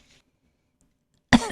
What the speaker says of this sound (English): The flower coughed, but it was not because she had a cold.